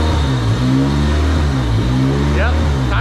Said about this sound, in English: The idle's starting to surge.